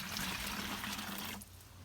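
Comfrey liquid fertilizer and plain water pour and trickle into a garden water tank, a steady close splashing flow that eases off near the end.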